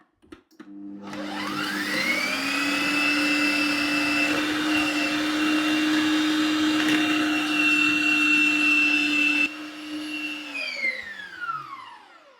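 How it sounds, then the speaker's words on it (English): An electric food processor grating cheese runs with a steady loud motor whine for about ten seconds, spinning up at the start and winding down at the end, then quieter clatter follows. "I have a machine in front of me, guys, but of course you can use a manual grater."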